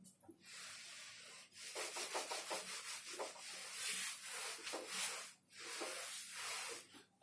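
A duster is rubbed over a classroom board to wipe off written physics equations, producing a steady, close scraping swish that runs almost continuously, broken by a couple of short pauses.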